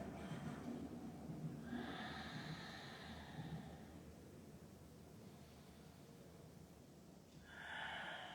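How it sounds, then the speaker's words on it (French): Slow ujjayi yoga breathing through a constricted glottis, with a soft raspy hiss on each breath, two or three drawn-out breaths heard close and quiet over a low background rumble. "On entend un léger râle dans la tête."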